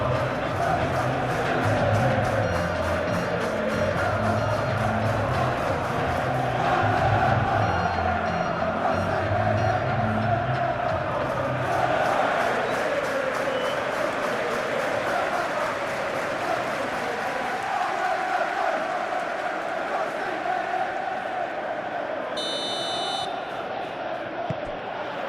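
A capacity stadium crowd in a Chelsea versus West Ham football video game, a dense continuous roar and chanting held throughout at steady loudness, with a brief electronic tone near the end.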